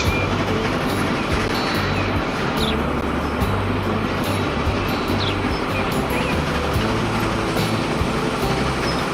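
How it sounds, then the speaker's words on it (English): A freight train hauling plastic in Transport Fever 2 gives a steady, loud rumble with rhythmic low clatter and a continuous rolling wash. "The train to transport plastic is behind us."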